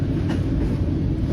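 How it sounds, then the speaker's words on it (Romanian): CFR Regio passenger train 9164 running on its rails, a steady dense low rumble of wheels and carriage noise heard from onboard, continuous and loud throughout with no talk. "asta e trenul Regio 9164"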